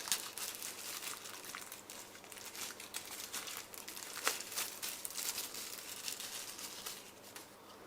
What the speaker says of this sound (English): let's rip this up